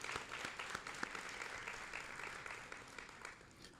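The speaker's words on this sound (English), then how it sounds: "So can we give our school board another round of applause?" School board audience applause, steady crowd clapping of many hands at a school event, continuous and fairly distant, fading slightly toward the end.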